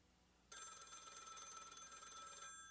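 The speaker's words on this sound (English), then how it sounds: "the phone rang." A desk telephone in a county sheriff's office rings with one continuous electronic bell trill lasting about two seconds, fairly faint against a quiet background.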